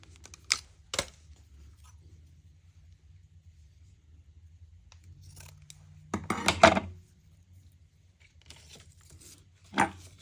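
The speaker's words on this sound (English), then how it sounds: "Let me grab my fabric scissors." Fabric scissors snip in sparse, sharp close clicks, a pair early, a longer cutting burst in the middle and one more at the end, with quiet room hum between.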